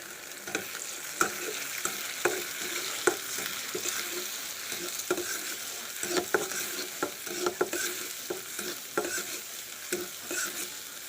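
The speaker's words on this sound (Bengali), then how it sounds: "এখন এর সাথে ডিমটাকে ভালোভাবে দিয়ে নাড়াচাড়া করে নিতে হবে" Beaten egg and browned onion sizzle softly in a frying pan while a spatula stirs them in quick, irregular scrapes and taps, close and fairly quiet.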